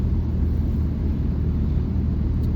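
Deep, steady exhaust drone from a 6.7 Cummins truck with a 5-inch straight pipe, heard from inside the cab as a constant low rumble with no talk.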